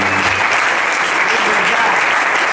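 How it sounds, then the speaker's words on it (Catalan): A jazz concert audience gives loud, dense applause, a sustained roar of many hands clapping close up, with voices mixed into the crowd noise. "els hi podríem dedicar un aplaudiment fantàstic"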